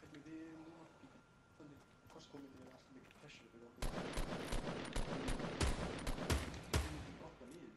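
Fortnite Battle Royale gunfire: after talk in the first half, a dense burst of rapid gunshots starts near the four-second mark and continues with sharp repeated cracks to the end, loud and close.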